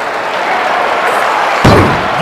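A body slam lands in the WWF Attitude wrestling video game on Dreamcast, a single heavy thud near the end, heard over a constant roar of crowd noise.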